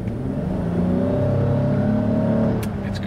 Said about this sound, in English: you wanted to floor it and get going quickly